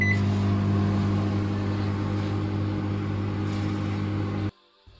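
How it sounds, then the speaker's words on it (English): A microwave oven hums steadily close by for several seconds, melting chocolate in a bowl, then cuts off abruptly, leaving near silence. "Put into microwave"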